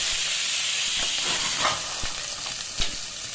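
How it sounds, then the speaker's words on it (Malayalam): Onion, green chili and curry leaves sautéing in a hot pan, a steady loud sizzle and hiss with a few light stirring scrapes, no talking. "ഉള്ളി, പച്ചമുളക്, കരിവേപ്പില ഇട്ട് കൊടുത്ത് ലേശമൊന്ന് വഴണ്ടി വരട്ടെ."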